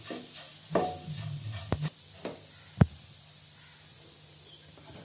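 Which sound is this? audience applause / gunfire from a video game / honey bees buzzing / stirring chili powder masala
stirring chili powder masala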